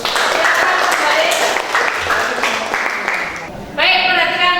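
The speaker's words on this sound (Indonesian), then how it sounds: "Boleh tepuk tangan dulu" Students in a classroom clap together at a teacher's request, a dense, fairly close burst of clapping that fades out, followed by a voice speaking.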